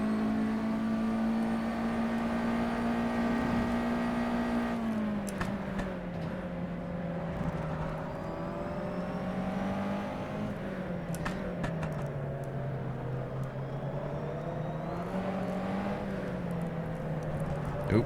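A USF2000 open-wheel race car in rFactor 2 drones steadily through a lap at Homestead-Miami, its engine note holding high, then dipping and rising with shifts and corners, with faint clicks and bumps over curbs.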